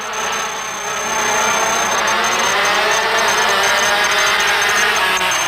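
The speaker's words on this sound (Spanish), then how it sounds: "ahí se va a escuchar un poquito el ruido de los motores" Racing engines at a motor race final roar in a dense, continuous wash, loud and sustained throughout with no voices, like a pack of machines heard from trackside.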